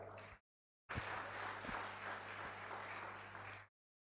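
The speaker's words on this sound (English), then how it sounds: "Clap if we are together." Audience members at a 2004 class reunion applaud together. A steady wash of clapping starts after a brief gap and holds for about three seconds before cutting off, with nobody speaking.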